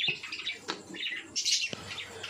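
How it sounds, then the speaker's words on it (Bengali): Cockatiels in a bird breeding enclosure chirp and squawk in quick overlapping bursts, bright and fairly close, with soft flutters between calls. "আর এখানে আছে ককটেলকি"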